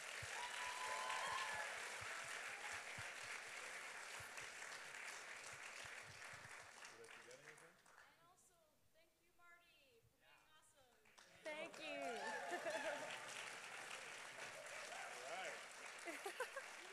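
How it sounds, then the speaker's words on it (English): A concert crowd applauds the MacEwan Big Band at a 2024 big band concert with loud sustained clapping. The clapping dips briefly midway while a voice cuts in, then surges again. "a huge round of applause to the MacEwan Big Band"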